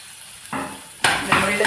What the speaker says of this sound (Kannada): ಇವಾಗ ಒಂದು ಸಣ್ಣದಾಗಿ ಹೆಚ್ಚಿದ ನೀರುಳ್ಳಿ, ಮತ್ತು ಒಂದು ಹಸಿಮೆಣಸಿನಕಾಯಿ,